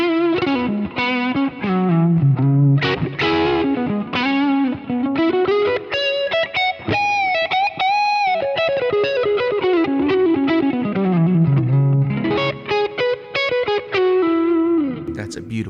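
Electric guitar through a vintage ODR-1 overdrive pedal, a warm, bass-heavy overdriven tone playing a continuous melodic phrase of sustained notes and quick runs, loud and close, with no talking.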